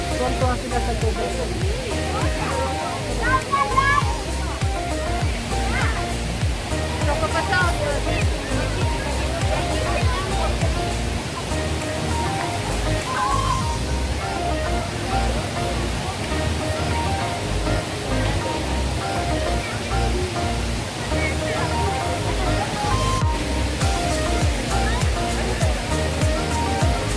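Water cascading steadily from a waterfall feature at the Dubai Expo, a continuous rushing wash heard throughout, with people chatting nearby over the flow.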